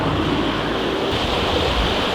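A river in Rucăr, Romania, flows past a school beside the main road, giving a steady, broadband rushing wash of water that stays even and continuous throughout, with no voices.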